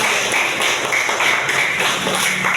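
An audience claps in steady, dense applause with a sharp tapping texture, holding at an even level for the whole stretch, with no talk over it.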